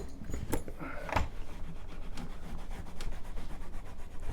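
Cleaner being rubbed onto a 2016 Harley saddle bag, including its non-leather inside, with repeated scratchy scrubbing strokes and a few sharper scuffs, close and steady, with no talking.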